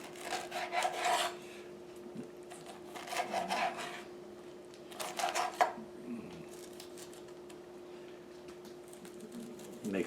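A knife trims seeds out of a cut pineapple, making three short rasping scrapes spaced a couple of seconds apart, fairly quiet and close over a faint steady hum.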